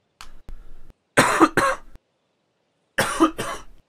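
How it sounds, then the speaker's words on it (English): A man coughs in short bursts, several harsh close coughs in two clusters separated by silence, loud and alone without talk. "I haven't been coughing until just now."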